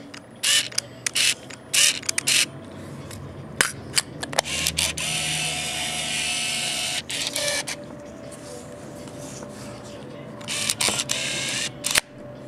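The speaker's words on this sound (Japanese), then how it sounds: "このようにシャッターも動いています。" Minolta TC-1 compact film camera with its shutter firing, a run of sharp close mechanical clicks and whirring bursts, some quick and clustered, with a longer motorized whir in the middle, alone with no talk.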